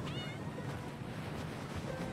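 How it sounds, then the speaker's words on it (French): A cat meows in the World of Tanks video game, with a few short mewing calls rising over a steady, loud bed of game ambience and low rumble. "Un nouveau chat! Un nouveau char-chat!"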